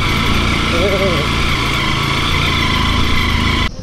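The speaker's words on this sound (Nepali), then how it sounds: "यो बाइक हो।" A motorbike engine runs close by with a steady, even hum that cuts off abruptly at the end; voices talk over it in a market setting.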